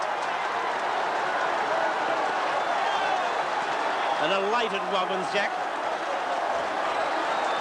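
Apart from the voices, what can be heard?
football crowd cheering after a goal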